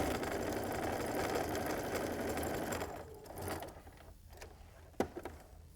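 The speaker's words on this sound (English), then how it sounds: "Sew my 1/4 inch seam." A sewing machine runs a quarter-inch seam on a quilt block, a quiet steady mechanical whir for about three seconds before it stops, followed by faint handling clicks and a light tap.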